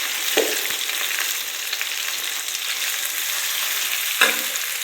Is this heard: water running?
no